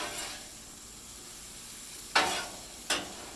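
Teriyaki chicken and fried rice sizzle in a hot pan, with two quick scraping stir strokes from a utensil cutting through the steady frying hiss.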